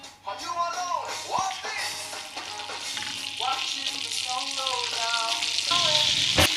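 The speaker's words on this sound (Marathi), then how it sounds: "फ्रायंग पॅन गरम जालें तें हांव आतां तेल घालता, तितून बटर घालता" Oil and butter sizzle in a hot frying pan, a close, steady crackling fry that grows gradually louder, with clinks of a utensil against the pan and a voice speaking over it.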